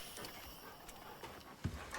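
Dogs panting in the survival video game Icarus, quick soft rhythmic breaths at low volume, with a dull thump near the end.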